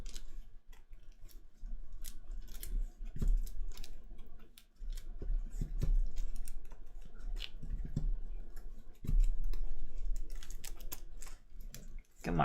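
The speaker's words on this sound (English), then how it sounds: "Come on, shuffle, shuffle, shuffle." Cards for the DC Deck-Building Game are shuffled and handled close by, giving a run of crisp papery riffles, snaps and clicks over several seconds with faint talk in the background.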